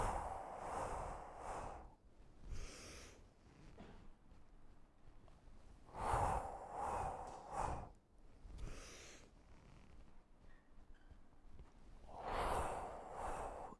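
Slow breathing during Tao meditation, a long inhale and exhale repeated about three times, soft airy rushes with sigh-like releases and quiet pauses between them, close and alone.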